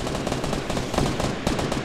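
Rapid gunfire in the video game Fortnite rattles in dense, loud automatic bursts with no speech.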